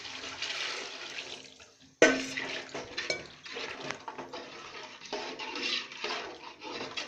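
Strained tamarind water poured into a fish curry masala for meen kulambu, a steady liquid pour and splash lasting several seconds, with a sharp clatter of a vessel partway through, near and alone without talk.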